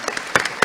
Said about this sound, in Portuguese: dá uma salva de palmas para essas pessoas